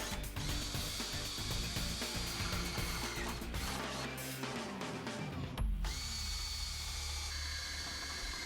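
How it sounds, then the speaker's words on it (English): A power drill bores holes in a metal pannier brace for a 1987-2007 Kawasaki KLR650, a loud steady whirring grind that changes pitch as the bit bites, then spins down to a lower hum. "drill them using either an 11/32 inch drill bit or a 3/8 inch drill bit"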